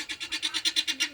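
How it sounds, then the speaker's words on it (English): A guinea fowl hen gives a rapid series of harsh, rhythmic calls, about ten short pulses in a steady cadence, fairly close and clear with no talking. "there's a guinea making noise"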